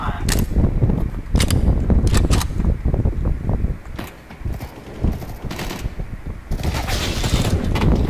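Rapid bursts of gunfire from Counter-Strike: Global Offensive gameplay, loud and dense with repeated shots across the whole stretch, with voices talking over it.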